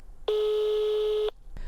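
A single steady telephone tone sounds when a news reporter places a call, a clean, sustained beep of about one second, near and loud, with a brief noise right after it.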